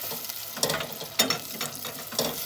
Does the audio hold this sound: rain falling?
no